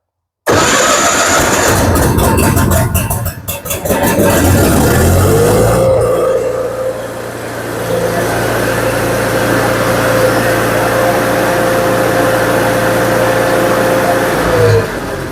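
A farm equipment engine cranks over and catches after a new oil pressure switch is installed, then settles into a steady, loud idle with a constant low hum running to the end.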